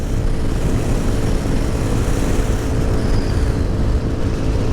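Steady, even drone of a Cross Country 300 motorcycle cruising in sixth gear at about 55, a constant low engine hum buried in heavy, close wind noise.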